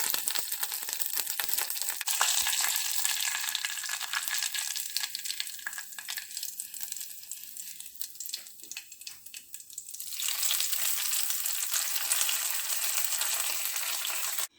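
Mustard seeds and curry leaves sizzle in hot coconut oil in a home kitchen, a steady close crackling that eases off through the middle and swells loud again near the end, with no talk.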